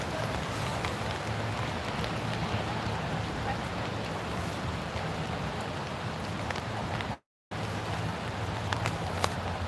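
Steady rain falls outdoors at a protest outside an ICE facility in Portland, Oregon, a dense, even hiss of drops hitting surfaces that runs continuously with a brief dropout near the end.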